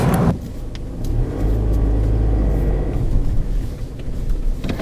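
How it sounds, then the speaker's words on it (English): A Mazda BT-50 bakkie with a 3-litre diesel engine drives along, giving a loud, steady engine drone and road rumble close by that swells slightly with acceleration. "That 3-liter diesel is just off the chain."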